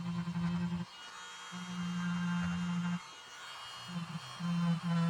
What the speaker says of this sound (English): This red wheel here is the medium grit, and I'll follow that up with the green fine grit polishing wheel.